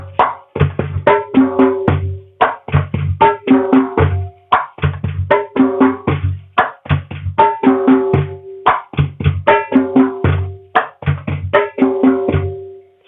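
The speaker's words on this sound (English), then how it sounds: "I'm playing it while holding the tom 2's membrane. So it produces a different sound" A conga beat repeats steadily, mixing ringing tonal hits with a muted, membrane-held stroke on the second tom, crisp close strikes in a lively looping rhythm with no talk.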